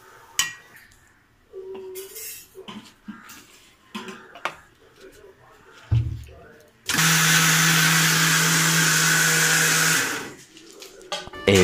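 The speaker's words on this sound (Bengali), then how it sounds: "এটা এবার আমরা মিক্সিতে দিয়ে পেস্ট করে নেব" A mixer grinder blends coriander leaves into a chutney paste, roaring loudly and steadily for about three seconds. Scattered clinks and clatter of kitchen utensils and some talk come before it.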